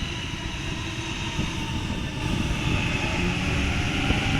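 A Sydney Trains Waratah passenger train on the South West Rail Link rumbles past nearby with a steady, heavy roar and clattering wheels, growing slightly louder toward the end.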